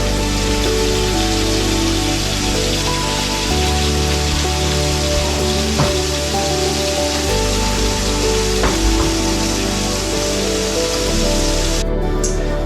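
Steady, dense sizzling of rib eye steaks in a hot pan, loud and continuous with a low background hum and a few small pops, no talking.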